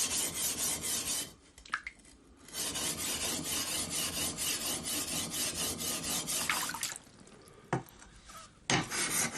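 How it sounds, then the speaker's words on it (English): A Japanese samurai sword blade is ground on coarse grindstones to remove surface metal, producing repeated rasping strokes in a steady back-and-forth rhythm, loud and close, broken by a few short pauses. "using coarse grindstones to remove any excess surface metal"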